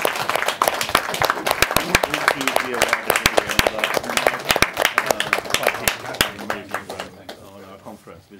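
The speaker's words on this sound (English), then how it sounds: "we'll have one final round of applause for our contestants" At the final of a catering competition, a crowd gives a round of applause for the contestants. Many hands clap dense and loud, then thin to scattered claps and fade out near the end, with some voices mixed in.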